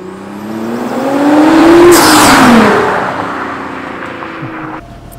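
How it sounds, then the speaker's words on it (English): A tuned Alpha 7 Nissan GT-R roars past close by, its engine pitch climbing as it approaches, peaking loudly and then dropping away as it speeds off, with no talking. "He's gonna turn back around. He's gonna come zoom by and hopefully nobody dies."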